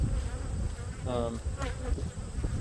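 Hornets buzzing around beehives, a dense continuous droning hum close by with individual insects whining past, steady and loud throughout.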